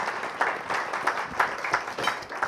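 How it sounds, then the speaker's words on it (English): An audience at a Davos investment lunch gives warm applause, steady overlapping clapping with a lively pulsing texture throughout, moderately loud and with no talking over it. "एक big round of applause for Ikram Sehgal sir"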